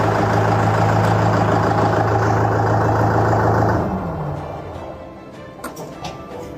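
A Trakstar 545 Smart tractor with a 42 HP engine idles nearby in a steady, loud low drone. After a few seconds the engine is cut and winds down, leaving quieter background noise with scattered small clicks.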